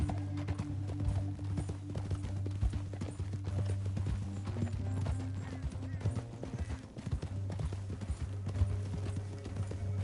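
Horse hooves in the video game Red Dead Redemption 2, in a canyon: steady clip-clop of riding at moderate volume over a low humming drone, with an occasional faint whinny and no speech.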